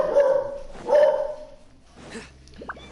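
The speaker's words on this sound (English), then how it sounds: "Sorry for the dog barking, y'all. But that's what dogs do, you know? They bark." A pet dog barks twice in loud, close bursts during a Genshin Impact game session, then quieter yips and whimpers follow amid faint background noise.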